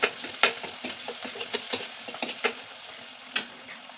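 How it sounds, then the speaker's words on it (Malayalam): Shallots and dried red chillies fry with crackling mustard seeds in a pan, a close hiss of hot oil broken by scattered pops and stirring scrapes. "കടുക് പൊട്ടി വരുന്ന സമയത്ത് അരിഞ്ഞു വെച്ചിരിക്കുന്ന ചുവന്നുള്ളി അതുപോലെ തന്നെ വറ്റൽമുളക് എന്നിവ ചേർത്ത് കൊടുക്കുന്നുണ്ട്."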